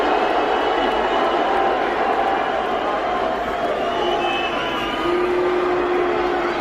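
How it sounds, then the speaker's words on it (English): Comedy show audience booing, a loud, sustained crowd roar of mixed voices that stays steady and dense from start to finish. "all those people are booing"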